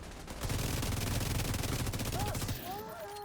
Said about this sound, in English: Still love the animation of just blind firing a grenade launcher.